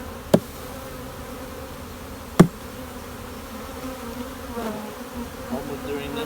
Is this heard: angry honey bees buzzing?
yes